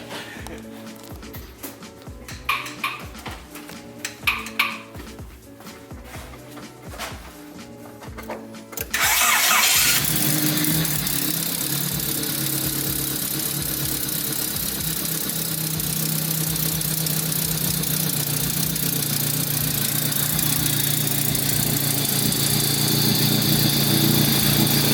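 A Honda car's engine cranks with rapid churning bursts under faint background voices, then catches and settles into a loud, steady, rough idle that runs continuously nearby.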